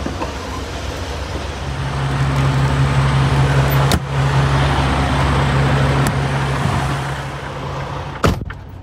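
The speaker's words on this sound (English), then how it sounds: "We got trucks all around here." Trucks idle and creep around a crowded truck parking lot, giving a steady, loud low engine rumble with a constant drone and a couple of sharp knocks. No voices are heard.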